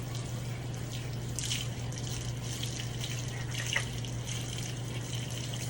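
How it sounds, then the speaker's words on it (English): Faint running water from a tap rinsing the fur of a large dog during grooming, a steady low wash with occasional splashes and drips in a quiet room. "I have to be so thorough when rinsing him, because his fur really likes to hold it in."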